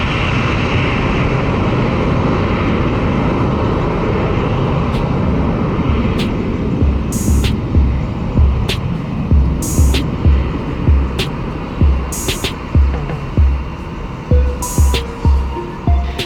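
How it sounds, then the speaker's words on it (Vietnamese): A Teleport cargo Airbus A321 takes off at Tan Son Nhat airport, its jet engines a loud broad roar that gradually fades as it departs, while short rhythmic thumps and clicks from nearby sound through the later part. "Ngay sau khi chiếc Airbus A321 chở hàng của Teleport cất cánh rời khỏi sân bay Tân Sơn Nhất"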